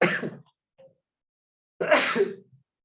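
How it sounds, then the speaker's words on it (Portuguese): A single sharp sneeze bursts out, followed by a faint catch of breath and then a second, softer sneeze-like exhalation, close to the microphone. "Vocês escutaram espirrar, né?"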